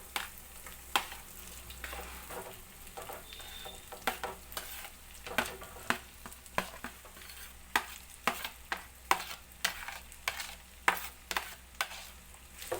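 Rice stirred into a frying pan for ginger rice, a spoon scraping the pan in regular strokes over a soft, continuous sizzle, close and unaccompanied by talk.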